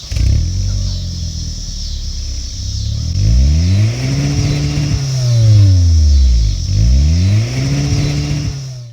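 A 2016 Kia Optima's exhaust revving repeatedly, the engine note climbing and falling in several close, loud sweeps from a stationary car.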